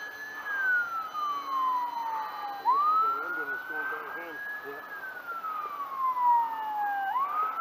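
An ambulance siren sweeps up and down in a steady wail as it passes, fairly loud and continuous throughout, with faint voices talking underneath.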